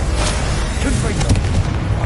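A Confringo fire spell bursts in Hogwarts Legacy, a dense, booming blast with low rumble that stays loud and sustained throughout, with no clear gaps or separate hits.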